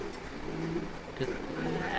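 Farm pigeons coo in low, continuous murmurs close by, with a person talking over them throughout.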